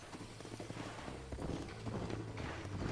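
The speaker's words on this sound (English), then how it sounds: "here's my horse from the other side of the border" A horse in Red Dead Redemption on Xbox One clip-clops steadily at a walking pace, hoofbeats close and even over a dense outdoor background.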